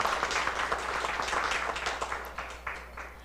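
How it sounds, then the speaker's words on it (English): At a space industry business event, an audience applauds to welcome panelists onto the stage, with steady, moderately loud clapping from a crowd throughout. "A round of applause and let's welcome."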